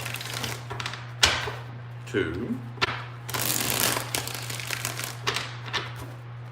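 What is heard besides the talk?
tarot cards being shuffled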